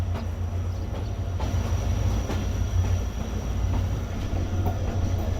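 A train easing to a halt at the outer signal of Tando Jam station on the Mirpurkhas to Karachi line, with a steady low rumble of the coach throughout and faint, sparse clicks over it.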